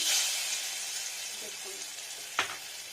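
Salt dropped into hot white oil for a potato curry, giving a steady soft sizzle with a brief sharp crackling burst near the end.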